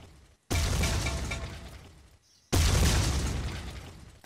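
Two loud, close explosions from grenades in the voxel shooter Ace of Spades, each a sharp broadband boom with a rumbling tail lasting about two seconds, the second following right after the first dies away.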